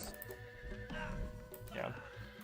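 A light horse whinnies loudly in a real-time strategy game, a drawn-out neigh over continuous battle ambience.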